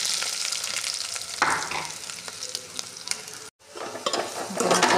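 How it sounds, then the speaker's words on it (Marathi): Masala spices with mustard seeds and curry leaves roasting in a pan, a loud, close crackling sizzle with repeated scraping stirs, briefly cut off by a short gap before resuming just as intensely. "मसाला भाजून घेऊया।"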